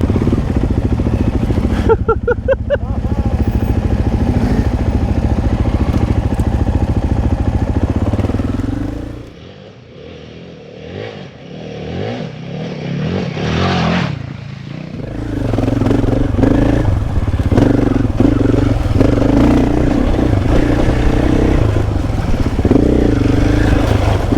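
Royal Enfield Himalayan 450 motorcycle engine revving while riding, loud and continuous with wind and clatter, a quieter dip midway before the engine surges back strong.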